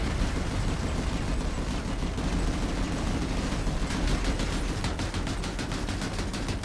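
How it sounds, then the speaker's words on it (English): A vehicle turret in PlanetSide 2 fires in a steady, dense stream of heavy shots, loud and close, with rumbling battle noise throughout. "I'll switch my weapon to the turret."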